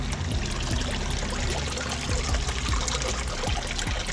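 Water from two pumps pours and trickles into a fish pond, a steady close splashing stream that runs without a break and with no talk over it.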